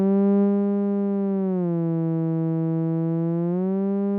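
A soft synth pad built in Serum holds one smooth, sustained tone for about four seconds, its pitch sagging gently in the middle and rising again near the end, alone and steady in level.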